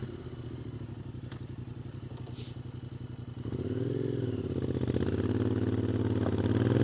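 A Royal Enfield 650 motorcycle engine idles with a steady low thumping, then revs up and pulls away, louder and rising in pitch. It is close and continuous, with no talk.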